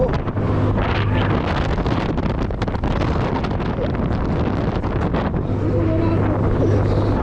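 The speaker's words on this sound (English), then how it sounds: "Oh, that's way more wind." Strong wind rushes and roars past the microphone on a fast fairground ride at the Sinksenfoor in Antwerpen, a loud continuous buffeting that fills the whole stretch, with a faint low hum underneath.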